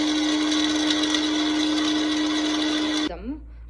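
A kitchen mixer grinder blending biryani masala runs with a steady, loud, high-pitched whirring whine, then cuts off abruptly, leaving a short trailing sound.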